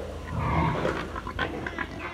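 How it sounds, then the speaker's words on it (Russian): A five-month-old young pig coming into heat grunts and snuffles in a farm pen, giving a close, rough run of low grunts that swells and then breaks into shorter snorts. "Молодая свинка начинает загуливать."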